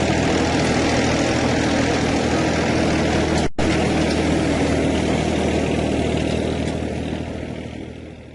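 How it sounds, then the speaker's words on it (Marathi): A tractor engine chugging steadily at idle, loud and close, a continuous low rumble with one brief break, fading slightly at the end. "मला कळलं, ट्रॅक्टर."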